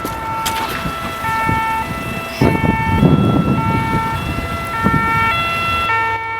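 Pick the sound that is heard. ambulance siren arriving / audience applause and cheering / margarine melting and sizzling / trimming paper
ambulance siren arriving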